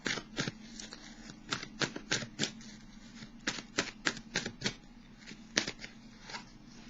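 Tarot and oracle cards being shuffled by hand, a quiet series of sharp papery riffles and flicks in uneven bursts, close up with no talking.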